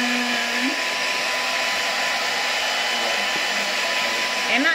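A hair dryer blows steadily, drying hair after washing, with a constant loud whoosh and a slight shift in pitch near the end; no voices are heard.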